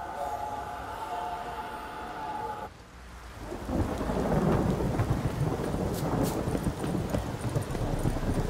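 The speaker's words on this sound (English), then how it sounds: "This downpour's a bastard, it is." A heavy downpour with thunder in The Witcher 3 video game breaks in after a few seconds of steady droning tone, then a loud, dense rain roar fills the rest with rumbling beneath.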